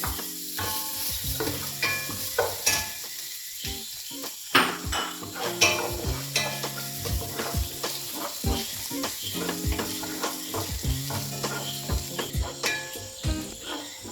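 Ginger and green chili crackle in hot oil with fennel seeds, a dense continuous sizzle with frequent clinks and scrapes of a metal spatula against the pan, close up and without voices.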